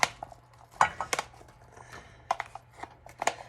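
A spoon clinks and scrapes against a pot while scooping a mixture into cabbage soup, sounding as a few sharp, close metallic taps spaced over a few seconds, with quiet gaps between them.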